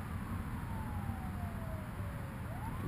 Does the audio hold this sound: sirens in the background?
yes